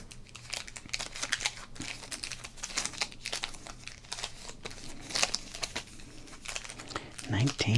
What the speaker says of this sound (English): And for you ASMR fans, of course, this is where we'll do some crinkling.